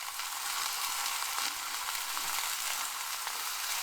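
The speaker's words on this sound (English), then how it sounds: "Now we're going to fry that for about 4 or 5 minutes first." Broccoli, ginger and garlic fry in a pan for a stir-fry, giving a steady, close, unbroken sizzle that holds at an even level throughout with no voices.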